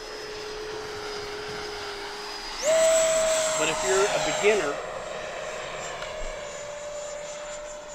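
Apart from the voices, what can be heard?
FMS 80mm F-86 Sabre RC turbine jet flying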